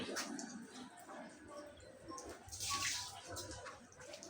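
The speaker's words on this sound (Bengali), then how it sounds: "ছাদের যে টিন দিছে সে টিন থেকে সাইজ থেকে পানি পড়তে আছে" Rainwater drips and runs off the edge of a tin roof in a faint, irregular watery patter with a soft splashing swell midway.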